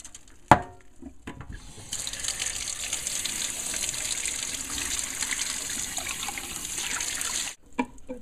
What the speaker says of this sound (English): last but not least, rinse our salad sprouting mix.